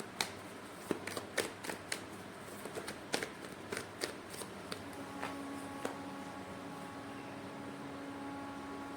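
Tarot cards are shuffled close by, with a quick series of crisp flicks and taps over a low steady hum. The flicks thin out and fade after a few seconds.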